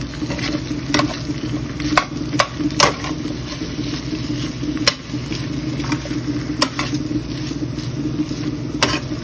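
Onion, tomato and chile de árbol sizzle in a pan, a steady crackling fry close by, broken by a few sharp clicks and scrapes from stirring.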